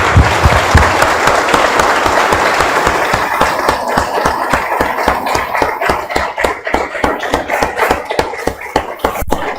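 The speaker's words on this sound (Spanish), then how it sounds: "Vamos a un aplauso, hermanos" A church congregation bursts into loud, dense applause at the close of a prayer, sustained clapping that thins toward the end into scattered individual claps.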